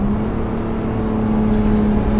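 A BMW M5 E28 engine pulls hard under acceleration with a steady, loud, droning tone from inside the car, no voices over it.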